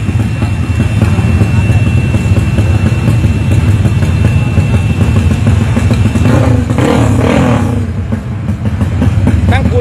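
A Honda Wave motorcycle fitted with a red racing exhaust drones loud and close, its engine holding a steady, raspy note with a brief rev and dip near the end.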